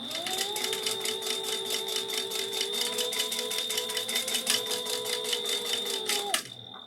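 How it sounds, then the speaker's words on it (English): A sewing machine runs in a steady rapid stitch, sewing back and forth across the end of a fabric strap on a yarn project bag, close and continuous before stopping abruptly. "The other thing I'm going to do, and this also is optional, is just stitch back and forth"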